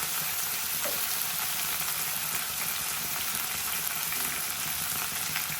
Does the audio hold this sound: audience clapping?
no